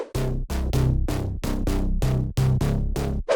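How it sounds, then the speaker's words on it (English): A dry mid-bass synth plays a rhythmic pattern of short punchy notes, evenly spaced and clean, with no other sounds. "Mid-bass without effect sounds like this."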